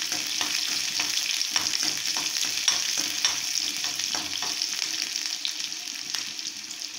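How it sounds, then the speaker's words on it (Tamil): Mustard seeds, garlic and onion frying in hot oil for a kuzhambu, giving a steady close sizzle with frequent small pops and crackles throughout, alone with no voices. "எண்ணெய் சூடானதும் கடுகு போட்டுடலாம். கடுகு பொரிஞ்சதும் வெள்ளை பூண்டு சேர்த்துக்கலாம்."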